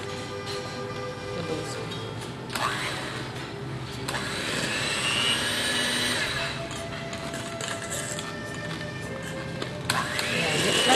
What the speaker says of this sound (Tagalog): bago yung isindi yung mixer